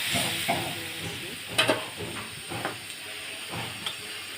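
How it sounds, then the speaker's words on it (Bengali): Hot water goes into a pan of potato and egg dal, raising a soft hiss and bubbling sizzle with a few sharper splashes and clinks, fairly quiet throughout. "আমি এখন গরম পানি দিয়ে দিচ্ছি।"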